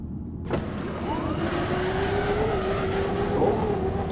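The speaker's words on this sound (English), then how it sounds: "get in the buggy, drive around the hangar." In the Star Citizen video game, a buggy's engine hums steadily as it drives around a hangar, with a rising whine and a brief clunk near the start, close and continuous.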